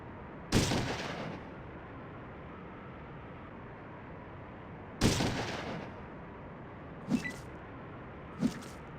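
Gunfire in the video game Fallout 2 comes as two loud single shots several seconds apart, each trailing off with a short echo, followed by two fainter, sharper reports, all over a steady background hiss.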